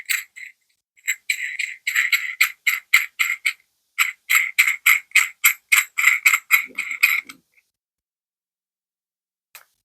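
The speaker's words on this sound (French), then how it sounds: "À l'aide d'un outil, ici une clé anglaise, il ne me reste plus rien qu'à visser." A wrench ratchets a nut tight on a bolt passing through two pieces of wood, giving two long runs of sharp, evenly spaced clicks close to the microphone, then silence.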